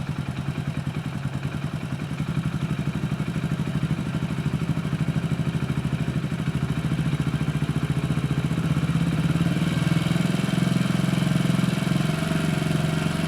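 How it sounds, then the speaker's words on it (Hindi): Carburettor engine pulsing with a rapid, even mechanical beat, its pitch and loudness climbing toward higher RPM in the later seconds, close and without talk. "अभी मैं आरपीएम बढ़ाऊँगा।"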